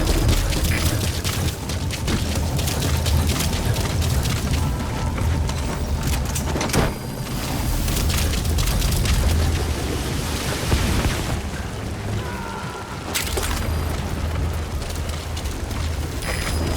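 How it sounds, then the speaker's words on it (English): Rocket salvo explosions in Metal Gear Solid V: The Phantom Pain, a loud, continuous rumbling barrage with several heavier booming hits standing out over a thick, roaring background. "Rockets away."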